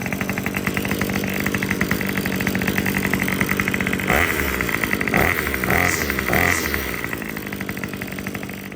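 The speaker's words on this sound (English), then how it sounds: "Sounding little old machine. Got a good idle." A small two-stroke engine on handheld equipment idles nearby with a fast buzzing putter, and the speed and tone wobble briefly a few times midway before settling back to a steady idle.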